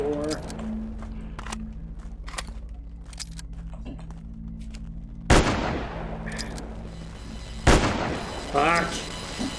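Gunshots in a shooting video game: two loud, sharp blasts a few seconds apart over a low ambient hum, with faint clicks and a brief voice near the end.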